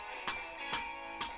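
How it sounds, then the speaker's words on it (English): A dinner bell rings with three bright, evenly spaced metallic strikes, each ringing out briefly, close and clear with no talk. "The dinner bell has been rung."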